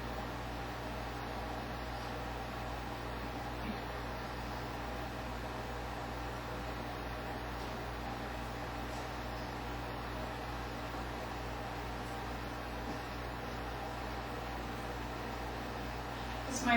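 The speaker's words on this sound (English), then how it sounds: "This microwave's a little bit older, so it takes a little bit longer." An older microwave oven in a college dorm runs steadily while heating water, giving off a constant low hum and whirring drone. The sound holds unchanged and alone for the whole stretch.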